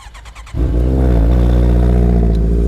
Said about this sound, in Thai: เดี๋ยวลองฟังเสียงเครื่องดู